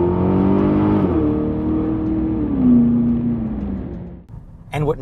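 An Aston Martin DBX four-wheel-drive SUV accelerates hard, its engine roaring loud and close with rising pitch through gear changes before the sound eases off near the end.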